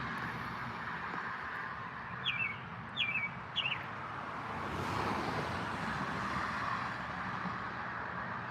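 Birds chirp outdoors in short, bright bursts, three quick calls close together, heard over a steady wash of distant road traffic with no talking.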